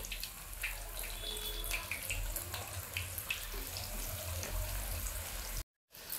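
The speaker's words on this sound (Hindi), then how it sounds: "पकौड़ों को हमने तेल में डाल दिया है हाई फ्लेम पर हम इन्हें एक साइड से फ्राई होने देंगे" Mustard greens pakoras fry in hot oil over a high flame, giving a dense, continuous sizzle and crackle at moderate level, uninterrupted except for a brief dropout near the end.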